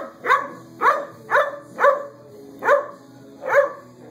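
A dog barks at a moving broom, six sharp, loud barks spaced about half a second apart with quiet gaps between.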